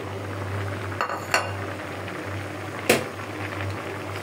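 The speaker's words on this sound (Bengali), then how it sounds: "আর সবজিটা কিন্তু সিদ্ধ হওয়ার পথে আমি এখন মাছটা দিয়ে দিচ্ছি আবার।" Vegetable curry simmering in a pot as dried fish is added, a steady low bubbling hum broken by a few soft clinks and one sharp metallic clatter from the pot, with no voices.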